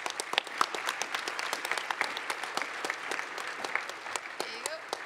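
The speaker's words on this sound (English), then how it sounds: "Give them more rounds of applause," A crowd at EVE Online Fanfest 2009, attending a PvP tournament, claps steadily for several seconds, a moderately distant patter of many hands with a few sharper individual claps standing out.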